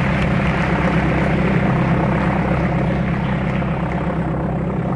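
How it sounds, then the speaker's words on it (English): Plane propeller spinning with a steady, unbroken whirring drone that holds at an even loudness for the whole stretch, with no voices over it. "And the propeller's still going"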